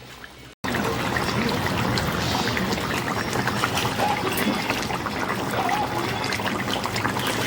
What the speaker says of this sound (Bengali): একটু সময় ফুটিয়ে নামিয়ে নেবো।